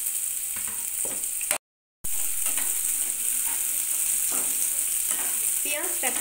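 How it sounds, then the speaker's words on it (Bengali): Chopped onions fry in oil in a frying pan with a whole dried chilli, a steady close sizzle with occasional stirring clicks, broken by a brief silent gap. "ফোড়ন দিয়ে দেওয়ার পরে কুচনো পেঁয়াজগুলো ভেজে নিতে হবে।"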